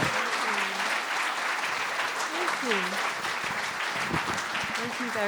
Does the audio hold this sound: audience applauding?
yes